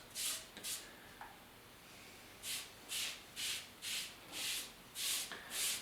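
Rag rubbing excess wood finish off a wooden guitar hanger, a series of soft, close swishing strokes in a steady rhythm, with two quick wipes early on, then a pause, then six more regular passes.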